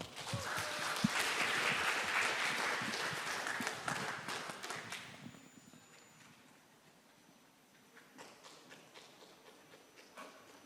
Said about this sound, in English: Please welcome Asok Professor Sazida Jan Mohkan, PhD, and Professor Dr. Mansur Afifi with a round of applause